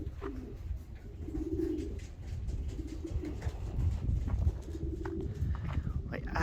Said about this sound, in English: breaking in and flying these smaller groups of young birds.